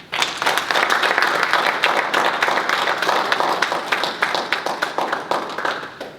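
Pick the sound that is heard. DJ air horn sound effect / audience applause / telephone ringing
audience applause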